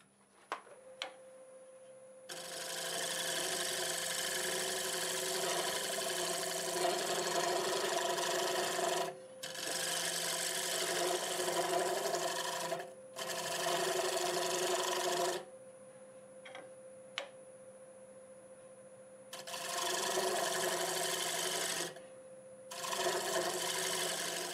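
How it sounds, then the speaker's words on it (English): A wooden bowl set into a game board is scraped along its top edge on a wood lathe: four or five long, close rasping bursts separated by short pauses, with a steady motor hum between them. "I'll scrape this top edge and sneak up on that joint right there and see if I like it."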